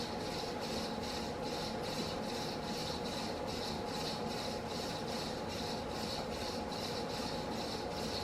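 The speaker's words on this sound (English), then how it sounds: "it doesn't move a lot of air and the bearings sound horrible" A chrome Mistral Mistralaire fan made by TAT runs steadily, its worn bearings giving a continuous rough, rasping whir with a fast rhythmic pulsing, close and alone.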